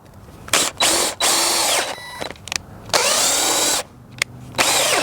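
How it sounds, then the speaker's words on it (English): Close, loud bursts of a battery drill boring holes through a wooden trellis post, revving on and off in short stuttering pulses with brief gaps. "we're going to drill some holes through the post"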